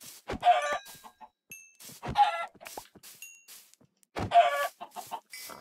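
Blocky video-game chickens cluck in three separate bursts of short, close, loud clucks, with quiet gaps between them and no voices.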